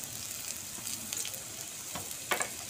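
Nigella seeds (kalo jeere) fry in a little oil in a pan. A steady, faint sizzle runs throughout, with a few brief crackles and pops standing out near the end.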